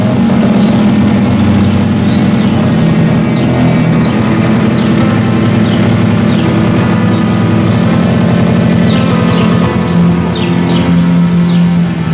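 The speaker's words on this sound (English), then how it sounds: "He fixes the failing generator before heading back out to neighboring villages." A repaired generator engine runs steadily and loudly at close range, a continuous low droning hum with a faint rhythmic chug, as faint birds chirp in the background of a village setting.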